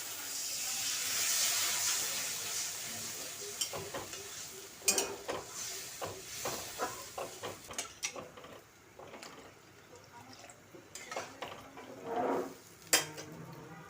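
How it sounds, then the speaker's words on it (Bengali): Water poured into a pan of well-fried spice paste releasing oil, starting with a broad hiss and sizzle, then a run of clinks and scraping stirs, close and moderate in level. "মশলাটা ভালোভাবে কষা কষা হয়ে গেছে, তেল ছেড়ে দিয়েছে। এখন আমি জল দিয়ে দেব।"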